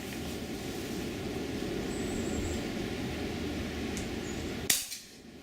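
An FX Royale .22 air rifle fires once in cold weather outdoors, a single sharp crack near the end that stands out above a steady background hiss and decays quickly.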